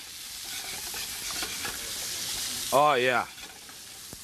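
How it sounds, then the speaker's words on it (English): Spices and onions stirred in a hot pan on a cooking show as pork butt is added, a steady close sizzle with stirring scrapes, and someone briefly speaks over it near the end. "we're going to start just coating those spices and the onions and stuff"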